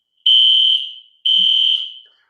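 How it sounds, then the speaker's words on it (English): A fire alarm sounds two loud, sustained high-pitched electronic tones, each about half a second long with a brief gap between, clear and alone. "There's a fire alarm."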